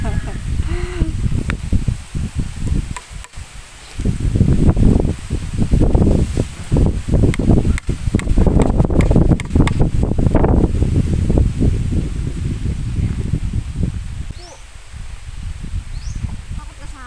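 Strong wind roars in loud gusts against the microphone, with rustling foliage swelling and easing throughout.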